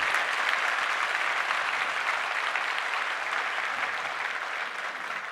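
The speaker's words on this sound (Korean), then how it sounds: "여러분 다 위해서 한 번 더 크게 박수해 주시면 감사하겠습니다" Church congregation applauding the choir after a Christmas cantata, a dense, steady wash of many hands clapping that fills the room and fades slightly toward the end.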